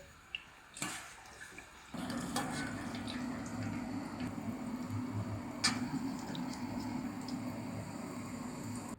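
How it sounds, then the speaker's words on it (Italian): Eggplant slices fry in well-heated seed oil, giving a steady, low sizzle that starts abruptly after a few clicks and carries on evenly, faint and close with no talk. "e procedo friggendole in olio di semi ben caldo"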